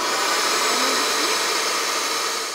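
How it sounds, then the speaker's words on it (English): A vacuum seeder for cell flats runs with a steady, loud airy hiss like a blower, constant throughout and tapering slightly at the end. "Turn on the vacuum"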